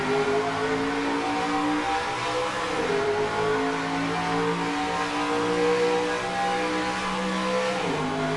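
A pack of race trucks in the NASCAR Racing 2003 video game accelerates at the green flag, engines revving loudly and continuously in a dense, layered roar with shifting pitches and no speech.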